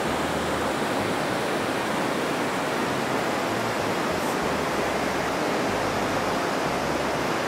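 The Pivka river flows through Postojna cave as a dense, steady rush of water, loud and unbroken, with no voices over it.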